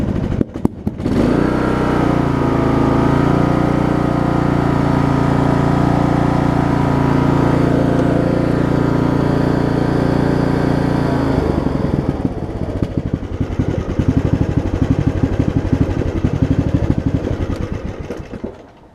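A Craftsman LT2000 riding mower engine runs loud and close with a steady low idle drone, then turns rougher and uneven toward the end with irregular pops back through the air filter.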